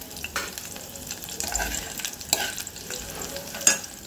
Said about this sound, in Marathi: याला मी छान तळून घेते पहिले. इथे आता आपलं फणस छान तळल्या गेलेलं आहे.